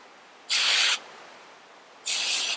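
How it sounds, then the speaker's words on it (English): Two short bursts of aerosol hairspray hiss close by over styled curls, the first about half a second, the second starting after a brief pause. "So I'm just going to take some hairspray"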